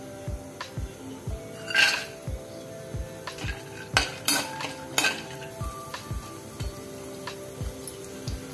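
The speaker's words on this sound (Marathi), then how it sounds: "सर्वात आधी आपण काजू, बदाम आणि मनुका थोडंसं परतून घेऊया" Cashews, almonds and raisins sautéing in ghee in a pan for coconut-milk saffron rice, with soft clinks of a spoon against the pan and light stirring clatter, a few louder scrapes, and no talk.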